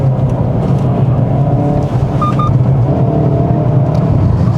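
A 2020 Hyundai Veloster N with a dual-clutch gearbox drives a winding road, its engine droning loudly and steadily from inside the cabin with small rises and dips in revs.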